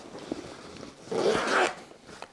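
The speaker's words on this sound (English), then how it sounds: "High quality zipper." A zipper runs along a DJI Air 3S Fly More Combo shoulder bag, with light handling taps leading into one quick, close raspy zip lasting about half a second, then more faint rustling.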